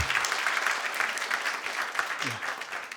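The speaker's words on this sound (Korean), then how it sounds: "우리 박수로 환영하겠습니다." Church audience applauding to welcome an Uzbekistan missionary to the front, a dense burst of clapping lasting a few seconds with a voice briefly audible beneath it.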